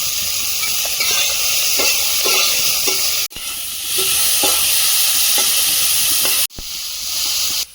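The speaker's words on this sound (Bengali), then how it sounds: "এবার চিংড়িটা ভেজে নেব" Shrimp sizzling and spitting in hot oil, a steady loud hiss with crackling pops, cut by two brief dips in the sound.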